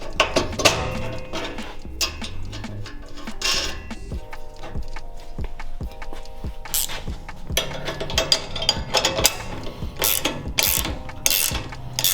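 Metal wrenches click and clank while tightening 1/2-inch bolts on the frame of a vintage off-road go-kart kit, a run of irregular close ratcheting and tool knocks with no talking.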